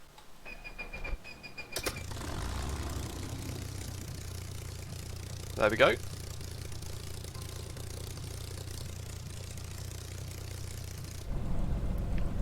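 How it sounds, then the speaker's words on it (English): A Spitfire Mk9C engine in MSFS 2020 cranks with a brief clatter, catches and settles into a steady low rumbling idle that holds for several seconds, with a short spoken remark early on. "engine start"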